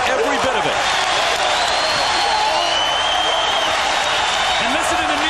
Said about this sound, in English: And listen to the New York crowd cheer their team.